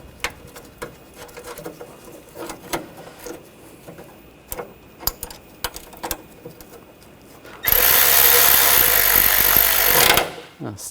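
A tool snugs down engine mount bracket bolts on a 2014-2020 Nissan Rogue 2.5L with a loud continuous whir lasting a few seconds, coming after scattered clinks and handling taps.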